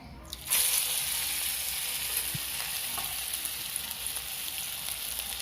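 Shrimp and taro chops hit hot oil and break into a loud, steady sizzle that holds evenly, close by, with no talking over it.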